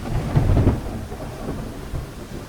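Heavy rain pounds steadily, with low thunder rumbling loudly and close at the start, heard from under a cover at a deep well-house campsite.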